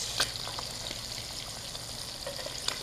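Thin trout fillets fry in a pan with little grease, giving a steady, faint sizzle throughout with a few soft pops and crackles.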